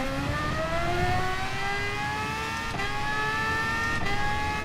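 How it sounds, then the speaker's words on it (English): A loud race car engine in a racing video game revs steadily higher, its whine climbing in pitch, with a couple of brief shifts in between. "That car is loud."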